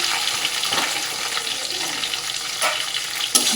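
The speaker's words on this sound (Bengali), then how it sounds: "ভালো করে সবগুলো ভাজা ভাজা করে নেব" Peanuts, ginger, green chili and curry leaves frying in a pan give a steady close sizzle, with stirring scrapes and a sharp clink near the end.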